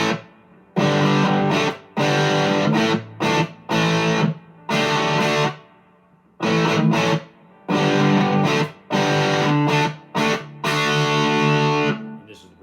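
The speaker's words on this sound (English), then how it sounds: "This is the Joe Bonamassa Epiphone 1955 Les Paul Standard with P-90s, 50s wiring" Electric guitar from an Epiphone 1955 Les Paul Standard with P-90 pickups and 50s wiring, played through a JHS Violet overdrive pedal, gives loud, gritty chords in short bursts separated by brief silences.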